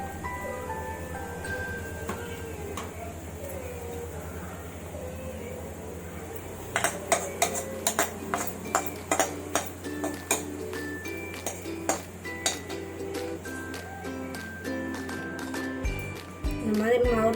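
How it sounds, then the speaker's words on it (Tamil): A cooking vessel for making paniyaram being handled, with a run of metallic clinks and knocks in the second half over steady background hum, while a person talks throughout. "இந்த பாத்திரத்தை எடுத்து வச்சுட்டேன்."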